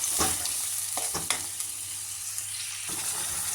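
Oil with mustard seeds and cumin sizzles steadily in a pan while chutney is added and a utensil scrapes and stirs through it in several quick strokes, close and fairly loud.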